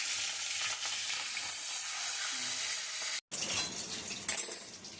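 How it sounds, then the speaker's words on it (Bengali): Whole tengra fish frying in hot mustard oil in a pan, a steady loud sizzle and hiss with faint utensil clinks, briefly cut off before resuming. "এবার আমি তেল দিচ্ছি, সর্ষের তেল দিচ্ছি মাছ ভাজার জন্য।"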